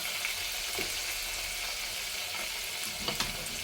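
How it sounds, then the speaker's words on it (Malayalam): Asafoetida fries in hot oil in a pan with a steady, close sizzling hiss, a few faint utensil taps near the end, no speech. "കായ നല്ല വറന്ന് വന്നാൽ നല്ല മണ്ണുണ്ടാവും"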